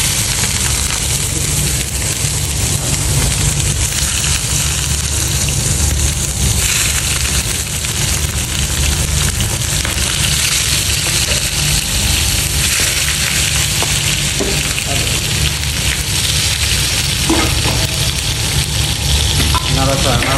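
Chopped onion and chilli frying in hot oil, a loud, dense, continuous sizzle close up with occasional stirring scrapes, no voices heard.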